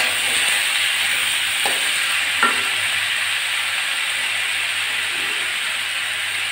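Potatoes and bitter gourd sizzle steadily in hot oil with fried onion and garlic, a constant bright frying hiss with a couple of brief stirring scrapes partway through.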